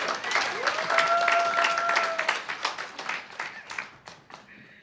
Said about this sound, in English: a round of applause for her as she comes to the stage